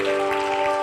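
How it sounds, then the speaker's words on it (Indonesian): Church congregation claps together, a brief rush of applause mixed with sustained music underneath, fairly loud and even across the moment. "Sekali lagi dong beri tepuk tangan"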